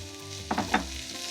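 Chopped onions with coriander powder and garam masala sizzle in a pan for Kerala-style Kuttanadan duck curry, a steady close frying hiss broken by a few louder stirring scrapes.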